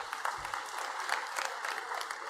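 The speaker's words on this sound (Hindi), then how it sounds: "इनका भी जोरदार तालियों से स्वागत।" Crowd clapping at an outdoor political rally, a steady patter of many hands applauding at moderate distance, fairly faint and continuous for the whole stretch.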